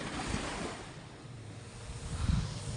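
Sea waves roll in at Chowpatty beach, a steady close wash of surf with wind rumbling across the microphone, swelling louder near the end as a wave breaks.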